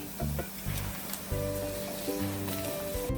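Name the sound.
masala added to frying onion in a pan, sizzling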